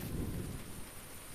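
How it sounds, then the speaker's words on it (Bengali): Rain pours steadily over a courtyard in Muragachha, Bagula, during a storm. It is a dense, continuous wash of noise at a fairly even level throughout, with no voices. "ওই দেখেন বৃষ্টি হচ্ছে"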